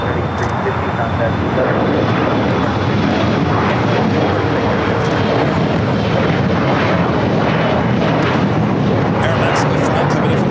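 A twelve-year-old Boeing 737-800 airliner arriving at LAX from Guadalajara, its engines roaring loud and steady without pause, with a voice talking over it.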